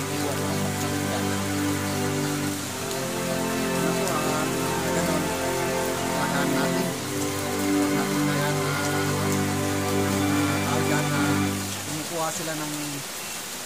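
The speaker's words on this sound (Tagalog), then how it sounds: "malakas na yung ulan ha. yung bagyo" Heavy rain pours steadily during a typhoon in Lasam, Cagayan, a constant loud hiss beneath a sustained tonal hum, with the level dipping slightly near the end.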